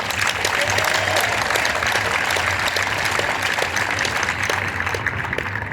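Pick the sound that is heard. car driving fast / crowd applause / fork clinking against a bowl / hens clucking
crowd applause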